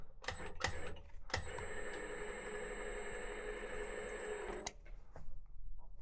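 A metal flanging machine running with a steady mechanical whir and a high whine, preceded by a few sharp clicks and ending abruptly, fairly quiet and without speech.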